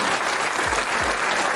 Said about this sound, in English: let's give Kev a round of applause for his take